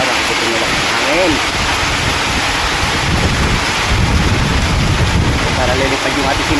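Strong storm wind on a farm roars steadily against the microphone, with a continuous rushing noise and faint voices underneath.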